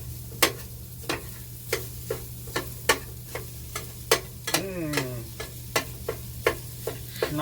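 Sausage frying in a pan, with sharp, regular scraping taps of a utensil about every half second over a low steady sizzle, and a brief squeaky scrape midway; no talk.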